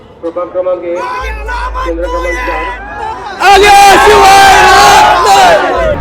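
Crowd of Shiv Sena supporters celebrating an election victory in Vita, Maharashtra, with a loud roar of cheering and shouting that swells sharply midway and stays dense and close to the end.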